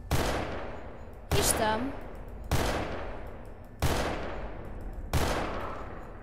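Repeated gunshots from a Garry's Mod game, five sharp loud bursts spaced roughly a second apart, each followed by a decaying tail, with someone speaking briefly between them.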